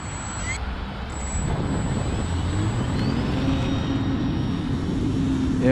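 Carbon Cub S+ model airplane in flight, its electric propeller motor giving a steady high whine and buzzing drone heard close from on board, joined by rushing wind, with someone speaking over it.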